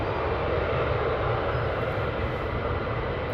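Fighter jets taxiing out at RAF Lakenheath send up a steady, loud, broadband engine roar that holds constant throughout without breaks.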